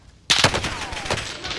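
Gunfire in Call of Duty: Warzone breaks out abruptly as a close burst of rapid automatic shots, followed by a few more cracks fading into echoing rattle.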